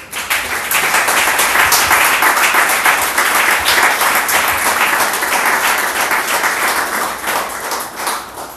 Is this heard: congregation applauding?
yes